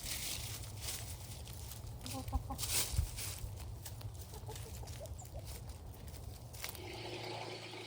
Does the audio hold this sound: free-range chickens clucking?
yes